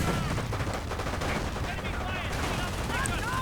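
Submachine guns fire in rapid bursts during a World War II strategy game battle, with dense overlapping gunfire and the chatter of combat running continuously beneath a commentator's voice.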